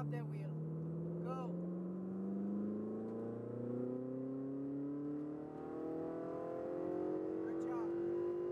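A Ferrari 488 GTB engine accelerates smoothly with a steadily rising drone, heard from inside the car on a Las Vegas drive, with a voice speaking briefly over it.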